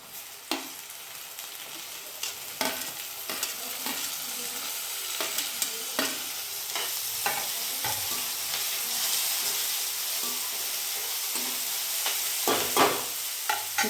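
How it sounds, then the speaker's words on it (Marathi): Tomatoes go into frying onions in a pan for a village-style chickpea dish, giving a steady sizzle with repeated scraping taps of a spoon stirring, close and continuous, with no talking. "आता आपण याच्यात हे टमाटर टाकू."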